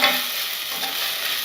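Ginger garlic paste frying with softened tomato in a pan for a Nati-style country chicken biryani, giving a steady, close, loud hiss of sizzling that runs unbroken throughout, with no voices.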